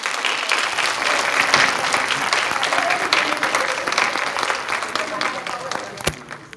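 An audience claps warmly to welcome comedian Angela Verges at a dementia-support event, a dense sustained round of applause from a room of people with a few voices mixed in, tapering near the end.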